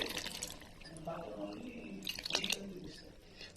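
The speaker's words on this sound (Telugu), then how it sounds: "చక్కగా కాన్ఫ్లవర్ని కాన్ఫ్లవర్ వాటర్ని యాడ్ చేస్తున్నాను" Cornflour slurry poured over fried veg Manchurian pieces in a pan, giving soft, wet liquid splashing and squishing sounds, moderately quiet, while someone talks throughout.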